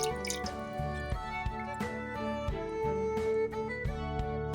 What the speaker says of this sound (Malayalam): പുളിയുടെ പാത്രത്തിൽ അല്പം കൂടി വെള്ളം ഒഴിച്ച് അതും കൂടി നമുക്കിതിലോട്ട് ചേർത്ത് കൊടുക്കാം.